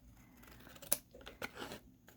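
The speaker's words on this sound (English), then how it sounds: "I'm gonna use the scissors" Scissors snip through a trashy journal's cover in a few quick, close cuts, with a sharp click and a brief rustling slice in an otherwise quiet room.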